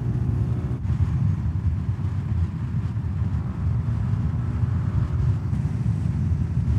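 SYM ADX 125 scooter, a 2024 model, cruising at top speed on a highway, with steady loud wind buffeting over a continuous engine and road drone and no talk.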